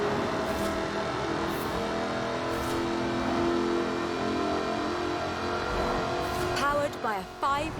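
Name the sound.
supercharged 5-litre V8 car engine revving, Forza Horizon 4 video game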